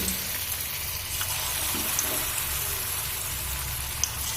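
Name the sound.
drumstick flower pakoras frying in hot oil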